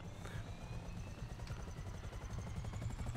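A helicopter engine in GTA 5 runs steadily with a rhythmic rotor chop and a thin turbine whine, continuous and close, with no talking.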